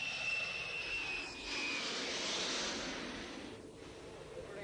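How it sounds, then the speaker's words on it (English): A jet transport aircraft comes in to land at a Vietnam War–era airfield such as Tan Son Nhut or Da Nang, its engines a loud, close whine and roar that swells and then eases over a few seconds. "when a jet transport touches down at Tan Son Nhut or Da Nang"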